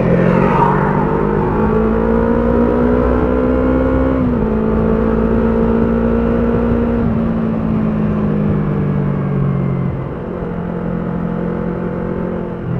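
A Yamaha R25 (older model) motorcycle pulls past a bus with a loud, steady engine drone whose pitch climbs and shifts as it accelerates, with no voices over it.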